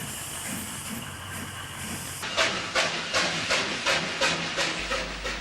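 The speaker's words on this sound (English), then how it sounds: "R749 takes a special train south from Albury across the border." Victorian steam locomotive R749 hauling a special train out of Albury, New South Wales: a loud, close steady steam hiss, then rhythmic chuffing bursts as it gets under way.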